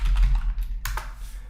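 Typing on a computer keyboard while designing in Adobe XD, a quick burst of close, crisp key taps with a few louder clicks near the end.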